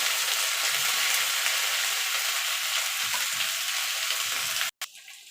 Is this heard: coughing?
no